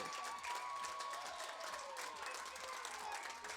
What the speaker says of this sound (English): a nice round of applause for Jillian Alonso